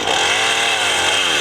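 Chainsaw running near an off-grid cabin in Alaska, a loud, steady, buzzing two-stroke whine held close up without a break for a moment, with no voices.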